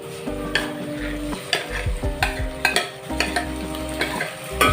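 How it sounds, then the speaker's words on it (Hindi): Tomatoes and green chillies fry and sizzle in a pan while a utensil stirs them, making rhythmic scraping and clacking strokes over the close, steady sizzle with no talking. "अब मैं इसमें शामिल कर रही हूँ टमाटर और हरी मिर्चें"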